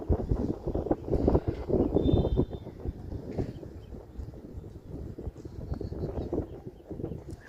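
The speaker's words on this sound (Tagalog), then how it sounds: "Medyo mahangin." Wind blowing across the microphone at Diloan Bridge in Southern Leyte, Philippines, gusty rumbling buffets rising and falling in loudness, close and strong, with no talking.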